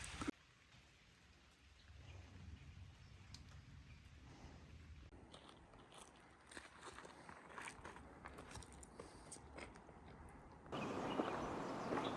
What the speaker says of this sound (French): On n'avait pas encore de pluie au Maroc.